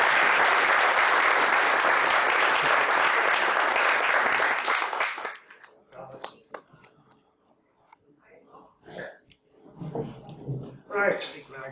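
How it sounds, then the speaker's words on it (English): Dense applause fills the first five seconds, then fades out into scattered sounds and a voice beginning to talk. "A big round of applause."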